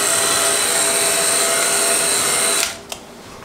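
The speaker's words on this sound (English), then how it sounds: "I'm going to take my little heat gun to warm it back up" A small heat gun blows steadily to warm and melt material, a loud continuous rushing hiss that cuts off abruptly near the end, leaving a brief click and quiet.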